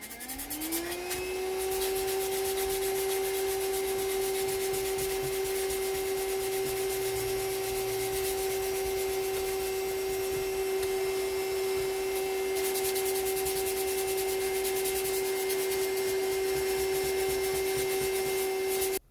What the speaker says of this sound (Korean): 그래서 한번 갈아볼게요. 좀 시끄럽습니다.